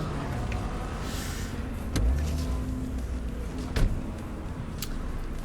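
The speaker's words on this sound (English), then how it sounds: "Let's park the car." A car is parked in the Cyberpunk 2077 video game, with a low engine hum under street ambience and a couple of sharp mechanical clunks, like a door or braking thud.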